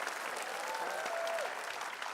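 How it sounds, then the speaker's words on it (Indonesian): A studio audience applauds on an evening news talk show, a steady wash of dense clapping throughout, close and fairly loud, with a faint voice briefly audible underneath. "Kita berikan tepuk tangan untuk Tia dan Lala"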